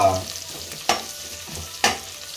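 Sliced onions frying in oil for vegetable biryani give a close, steady sizzle, with a couple of sharp scrapes from stirring.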